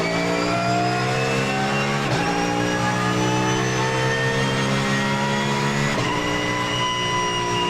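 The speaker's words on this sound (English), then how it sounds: "Overtaking the BMW" A racing car's engine howls continuously at high revs on the Nurburgring while overtaking a BMW, loud and close, with two brief dips as gears shift.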